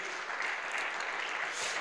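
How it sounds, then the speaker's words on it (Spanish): Church congregation applauding together during a Spanish-language evangelical sermon, a steady dense wash of clapping with no talk, sustained evenly for the whole stretch. "¿Cuánto le dan un aplauso al Señor?"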